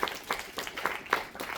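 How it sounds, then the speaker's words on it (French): Audience applause at a cosplay contest prize-giving, a short burst of scattered clapping that rises and falls in uneven pulses. "On applaudit, exactement."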